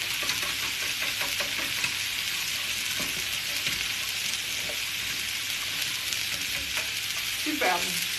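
Egg mixture for a pepper and ricotta frittata being stirred as it cooks in a pan: a constant soft sizzle runs throughout, with light, irregular scraping strokes on top, close and fairly quiet, with no talking.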